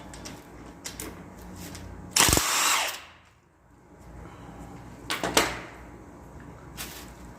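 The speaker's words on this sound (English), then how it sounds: "an impact is real nice for this job" An impact wrench loosens the top of an ISC coilover on an S550 Mustang, one loud burst of rattling whir about a second long, then short softer bursts later, with clanks and tool handling between them.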